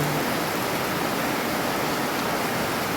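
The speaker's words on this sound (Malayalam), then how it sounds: "ഏതായാലും മഴയൊക്കെ പെയ്യട്ടെ." Rain pours down steadily on a Saturday morning, a dense even hiss of falling water that stays loud and unbroken throughout, with no voices.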